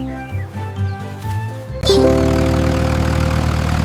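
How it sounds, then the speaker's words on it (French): A small tractor engine starts idling with a steady mechanical rumble and hum, preceded by a brief stretch of quieter tones. "Le rugissement du petit tracteur était fort."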